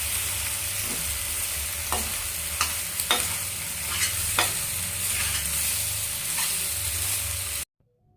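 Pasta being stirred into tomatoes softened in hot oil in a pan: continuous close sizzle with regular scraping strokes of a spoon, steady throughout and cutting off abruptly at the end, no talk.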